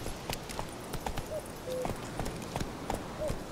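Roach the horse gallops in The Witcher 3, a steady run of clip-clop hoofbeats with a few whinny-like tones, close and moderately loud over a background bed.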